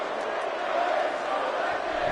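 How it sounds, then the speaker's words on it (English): A wrestling arena crowd in Bakersfield fills the space with a steady, diffuse roar of chanting voices, with no single voice standing out. "As the crowd here in Bakersfield is chanting, Bray's gonna kill you."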